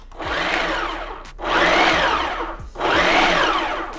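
A Ninja PrecisionPro food chopper whirs loudly in three short bursts, its motor rising and falling as it chops carrots, with brief pauses between pulses.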